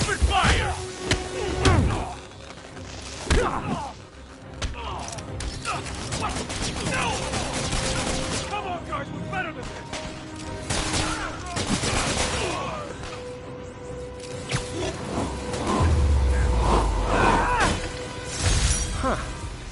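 Gunfire in the video game Spider-Man on PS4: repeated bursts of shots and clattering impacts, some slams and shattering, mixed with game voices and effects over about twenty seconds.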